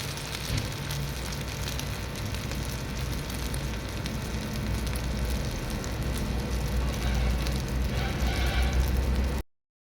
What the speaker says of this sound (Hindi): ऑयल जो है तकरीबन हमारा गर्म हो चुका है। अब हम कबाबों को करेंगे फ्राई।